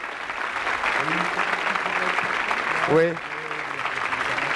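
An audience applauds MC Solaar on a French television show, with steady clapping running throughout while a voice speaks briefly over it.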